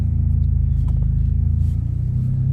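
A Chevy Cruze on a daily drive, its engine and exhaust a steady, deep, loud rumble from inside the car, smooth and constant with no revving surges.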